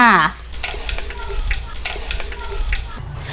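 Hot oil crackles and sizzles steadily as banana slices fry, close and busy, with a brief voice at the start and clinks of a utensil.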